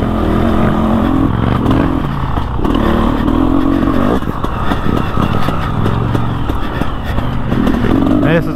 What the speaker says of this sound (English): On a bloody big adventure bike out here.